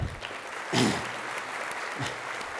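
Applause at a business intelligence conference opening keynote, moderate clapping that is heard at a distance, with a louder thump near the start and a brief burst later.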